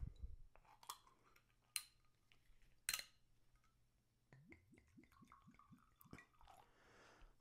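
Yogurt-flavored soju poured from a bottle into a glass, with close glugging bubbles and liquid trickle after a couple of sharp clinks of glass, fairly quiet with no talking.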